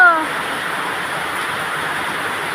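Heavy rain pours down steadily in a dense, even hiss, with no letup.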